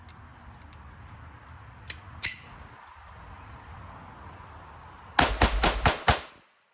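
A 1911-style .22 pistol fires at a shooting range: a couple of isolated sharp cracks, then a quick cluster of five or six loud, close reports in rapid succession before it falls quiet.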